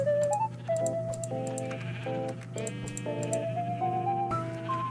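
Sheep in Minecraft bleat in a quick series of short wavering calls over a steady humming background tone, with a faint ticking mixed in.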